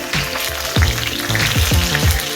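Cauliflower wings fry in hot oil with a loud, dense sizzle, and a series of low thumps and knocks from the pan or utensils repeats throughout the short stretch.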